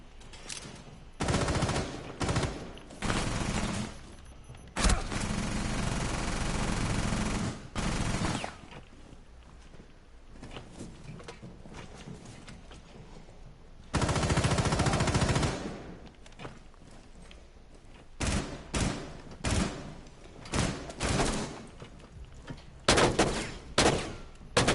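Bursts of automatic gunfire from a multiplayer shooter video game, loud and close, coming in long sustained volleys and shorter rattling strings separated by brief quiet gaps.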